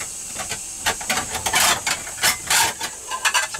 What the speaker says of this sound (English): first time we've put kettle on